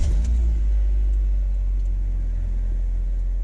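A Fiat Tipo car engine running just after starting, a steady low idling rumble heard close from inside the car, with a slight bump at the very start and no talk.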